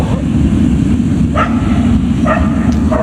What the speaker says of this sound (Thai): ได้ยินเสียงเห่า